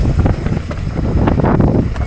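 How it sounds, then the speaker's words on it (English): Loud gusting wind buffets the microphone on a fast mountain bike ride, with rumbling, fluttering low noise that rises and falls throughout. "It is quite windy, as you can probably tell."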